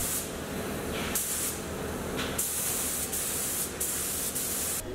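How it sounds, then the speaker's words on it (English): A spray gun hisses out black base coat thinned 50-50 with thinners onto a helmet, several steady bursts of close hissing spray separated by short pauses. "This is just a black base coat mixed 50-50 with thinners and I'm going to spray that black."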